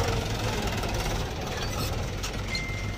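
Mahindra 275 tractor engine idling, a steady close rumbling chug with knocking texture, continuous throughout with little variation.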